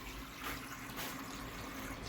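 Water runs steadily into a koi pond filter, a continuous broadband splashing and rushing wash at close range with no voices.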